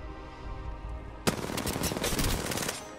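Automatic gunfire in the video game Apex Legends, a sudden burst of rapid shots starting about midway and continuing steadily to the end, loud and close, with no talk.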